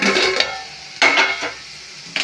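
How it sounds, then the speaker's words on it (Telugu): Sliced onions and green chillies frying in a pan for a curry, with a close sizzle broken by a few bursts of stirring and clatter against the pan. "ఉల్లిపాయ, పచ్చిమిర్చి వేసుకుందాం. వేగనిద్దామండి కొంతసేపు."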